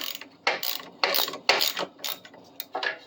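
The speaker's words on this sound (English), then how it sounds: "Now, switch to an 8 mil socket on the bar, of course." A ratchet with an 8 mm socket undoes the brake assembly on an e-bike's rear wheel, giving several close, loud bursts of rapid clicking separated by brief pauses, with no speech.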